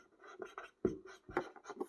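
Handwriting on paper during a Bengali-language school life science lesson, a few scratchy pen strokes close by, with short gaps between marks and no talk over them.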